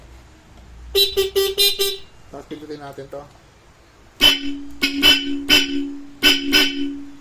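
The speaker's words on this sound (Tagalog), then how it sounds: "Tapos may horn. So, demo uli natin. Busina natin." Several short horn beeps in quick bursts from a Honda ADV 160 scooter, then a lower-pitched horn tone repeated in clusters, with brief talk between them.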